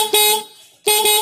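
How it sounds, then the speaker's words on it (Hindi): Horn on a Honda Activa scooter, just rewired with a two-pin connector, gives two loud, close honks separated by a short pause, with a steady buzzing electric tone and no talk. "देख सकते हैं हॉर्न चल गया है।"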